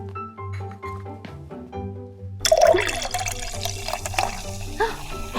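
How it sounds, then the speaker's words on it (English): A drink is poured into a cup, a splashing, gurgling stream of liquid that starts abruptly after a stretch of tonal background sound and continues steadily, close and fairly loud. "I'm gonna pour him a drink."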